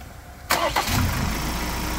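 A Ford Ranger T9 with a 2.0 twin-turbo diesel engine, running on a small Nanexx battery, cranks briefly and fires up, then settles into a steady, close diesel idle.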